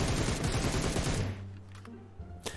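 An M16 rifle in the video game PUBG Mobile fires a rapid, loud burst of closely spaced shots, followed by a decaying echo with a faint low hum and a late softer crack.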